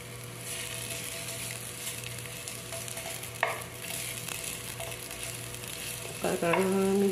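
Ginger sizzling in a little oil in a pan, with a steady close frying hiss throughout, a brief scrape midway and louder clattering stirring near the end.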